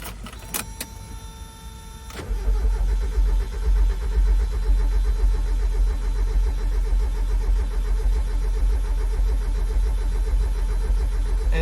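A 1994 Mazda Miata, parked for 11 years and fitted with a new fuel pump, cranks steadily for about nine seconds without catching. Brief clicks come first, then the starter churns loudly and continuously with no talk.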